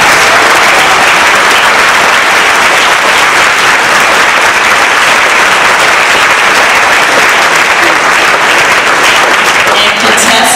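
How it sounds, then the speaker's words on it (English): A loud audience at a speech evaluation contest gives the contestants a long round of applause, dense sustained clapping filling the hall with some crowd noise mixed in. "let's give our contestants a round of applause"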